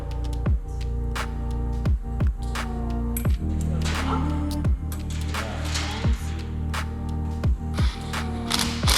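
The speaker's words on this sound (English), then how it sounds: "Go star pattern on the lug nuts. Tighten just enough." Ratchet tightening lug nuts on an off-road vehicle's wheel, close rhythmic clicking pawl strokes with sharp knocks about every second over a low steady hum.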